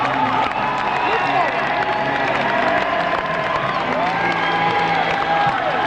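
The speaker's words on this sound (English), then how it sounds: "I believe you can hear, Harry, the ovation he is getting here from this tired but very gleeful crowd." A tired but gleeful election-night crowd on its feet gives Jimmy Carter an ovation, a dense, sustained roar of cheering, whistles and applause filling the hall with shouts rising above it.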